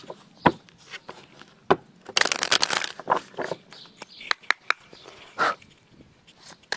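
Tarot cards shuffled and cut by hand: a string of sharp, separate slaps and taps, with a dense rattling shuffle burst partway through, close and fairly clear.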